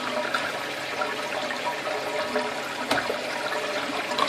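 A water pump forms a vortex and sucks in air: steady swirling, gurgling water rush with a continuous airy sucking noise, fairly close and unbroken, with no voices.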